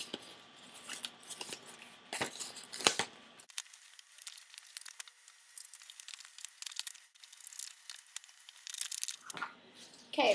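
Scissors snip through paper, cutting a curvy tree shape, in a steady series of crisp close crunches and crinkles, with a quieter stretch of small snips in the middle before louder cuts resume.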